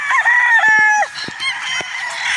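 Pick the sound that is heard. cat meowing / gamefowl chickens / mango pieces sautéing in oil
gamefowl chickens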